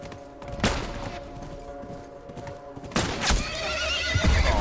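Horse whinnies loudly in The Last of Us game audio, with hoof clatter, thuds and bursts of gunfire mixed in around the cries.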